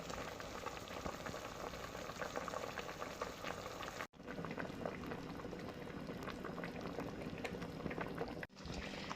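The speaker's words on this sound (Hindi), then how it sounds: "चिकन अब पकना शुरू हो चुका है।" Chicken masala simmering in a covered pot, a steady, faint bubbling and sizzling hiss that runs continuously with two brief dropouts, no voices present.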